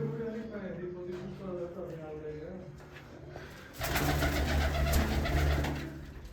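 Soft pigeon coos repeat in the background while someone talks, then a louder, broader noise swells in for the last few seconds.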